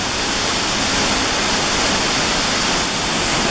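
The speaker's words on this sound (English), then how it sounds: "Look at that force of water." Powerful water rushes through the waterfall inside Devil's Cauldron, a loud, steady, unbroken roar of churning spray that fills the whole space.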